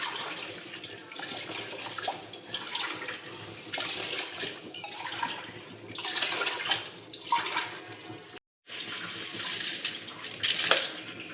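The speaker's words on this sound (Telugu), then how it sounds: "4 డబ్బాల బియ్యానికి 7 డబ్బాలు ఎసురు పోస్తున్నా." Water is poured over rice in an idli pot to cook mint pulao, four measures of rice to seven of water, giving a steady splashing, gurgling pour with short pauses and a brief break, loud and close.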